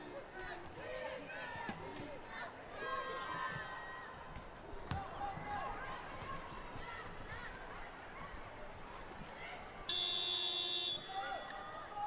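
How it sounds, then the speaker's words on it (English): A loud electronic buzzer blares for about a second at a women's wheelchair basketball game, cutting through a busy arena backdrop of squeaking play and crowd noise while a commentator talks throughout. "And you hear the buzzer sounding."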